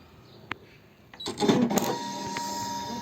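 A paper cutting machine cuts out a small fir tree card for iris folding: one sharp click, then a steady mechanical whir and hum that builds and holds close by.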